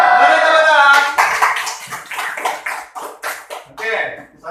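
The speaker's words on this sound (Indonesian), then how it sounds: "Beri tepuk tangan" A class of children claps together in a classroom, giving a burst of several quick, loud claps following a brief voice.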